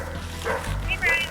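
Feral puppies from a litter of twelve eight-week-olds yip and whimper in short, close bursts, mixed with low rumbling handling noise.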